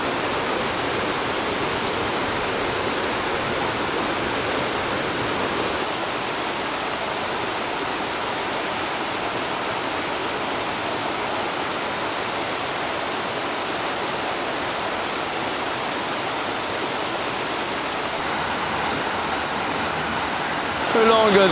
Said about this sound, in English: Along this fast-flowing river with some rapids or small waterfalls